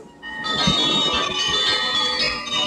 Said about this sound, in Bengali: মন্দিরের ঘণ্টাগুলো এক দমকা হাওয়ায় প্রবলভাবে নড়ে উঠল।